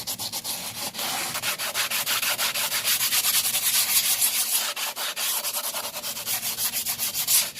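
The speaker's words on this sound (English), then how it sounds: "Now I'm gonna start sanding it down with this 80 grit sandpaper." A broken Wowgo 3 electric skateboard deck is sanded by hand with 80 grit sandpaper, giving steady, close, rhythmic scraping strokes that repeat back and forth without any talking.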